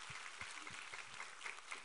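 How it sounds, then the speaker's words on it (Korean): A Korean church congregation at a Thanksgiving Sunday service claps in praise, a faint, somewhat distant patter of many hands with some individual claps standing out, no voices heard. "우리 하나님께 감사와 영광의 박수 올려드리겠습니다."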